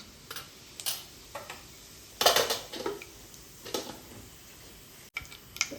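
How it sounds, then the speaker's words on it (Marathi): Sparse, sharp pops and crackles of mustard and cumin seeds spluttering in hot oil with asafoetida, quiet overall, with a louder burst of crackling partway through. "जिरं राई तडतडलेलं आहे"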